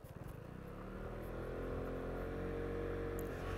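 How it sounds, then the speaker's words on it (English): An automatic scooter's small engine hums steadily as it is ridden with a little throttle, a continuous quiet drone rising slightly in pitch over a few seconds, with no talking. "I'm just applying a little bit of throttle as needed."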